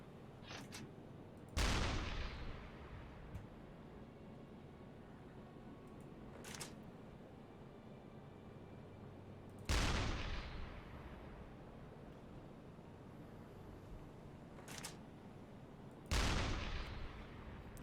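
Deck gun on a U-boat in a submarine video game firing at a ship, three loud booming shots spaced several seconds apart, each with a long decaying rumble, alone with no talk.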